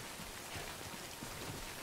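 Steady rain in the video game Death Stranding falls as a soft, even hiss of drops on surfaces, faint and continuous throughout without any voice.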